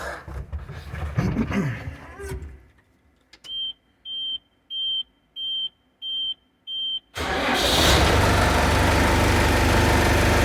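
A Case JX90 tractor's diesel engine idles, then revs up loudly and keeps running during a clutch test, after a voice speaks over the engine and a series of six short electronic beeps.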